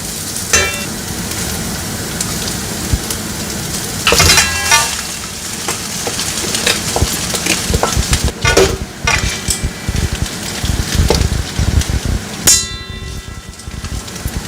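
Noodles stir-fried in a pan at home, with continuous loud sizzling and scraping tossing sounds throughout, punctuated by bursts of clattering as the food is moved around.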